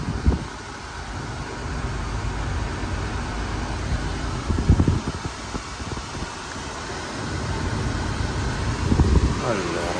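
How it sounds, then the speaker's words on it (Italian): Air conditioning running in a 1991 Mercedes 200CE, a steady close blowing hiss and fan whoosh filling the cabin throughout, with soft knocks and handling noises over it. "ha sempre l'aria condizionata che va nel momento in cui aprite l'aria"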